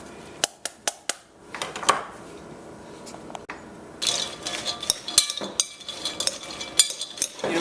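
Fried spicy chickpeas being tossed with grated Parmesan cheese in a bowl, heard as a string of distinct clinks at first, then busier scraping and clattering of a utensil against the dish, close and fairly loud.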